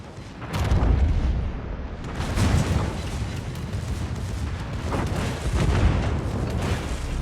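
Continuous rumbling gunfire from the secondary guns of the Grosser Kurfürst battleship in a naval video game: dense, overlapping booms and crackling blasts that stay loud throughout with no pauses.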